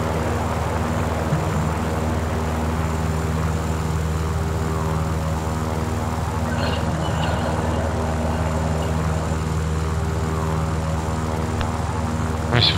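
A propeller aircraft engine in the video game War Thunder drones as a steady, loud, even hum with strong tonal harmonics throughout, broken only briefly by faint chirps toward the end.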